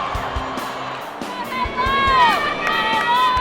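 A huge crowd of 31,448 softball fans roars and cheers inside the Tokyo Dome during a USA versus Japan game, a sustained wash of screaming and whooping with a rising pitched tone sweeping through, loud and continuous.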